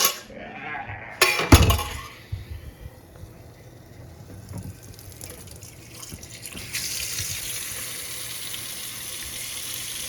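Water runs from a kitchen tap into a sink while something is washed out during groundnut sugar cake making, a steady hiss after a few clinks and knocks at the start, growing fuller toward the end.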